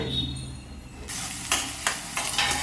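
Onions frying in a pan on a home stove, with a steady sizzle and several scraping stirs of a spoon in a quick, uneven rhythm, close and fairly loud.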